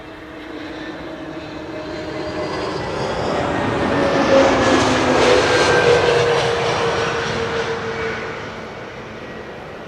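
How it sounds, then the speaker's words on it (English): A KLM Airbus A321neo arriving from Rome on approach to Schiphol's Kaagbaan runway, its engine roar swelling steadily to a loud peak near the middle and easing off as the jet passes overhead, with no voices. "KLM flight 1602 is going to arrive next. A321neo arriving from Rome."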